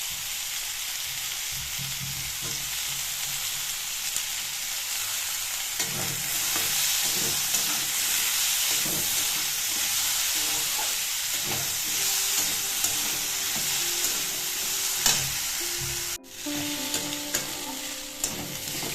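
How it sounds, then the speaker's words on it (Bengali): Potatoes and onions fry in a pan with a steady, close sizzle and repeated stirring scrapes, ending with a sharp clank of the utensil against the pan. "পেঁয়াজটা ভাজা হয়ে গেলে আলুগুলো দিয়ে ভালো করে দু তিনবার ঢেকে ভেজে নেব"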